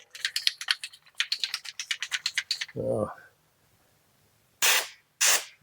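A can rattles rapidly many times, then after a pause come two short, sharp hissing bursts of aerosol wall-texture spray onto cardboard, close up.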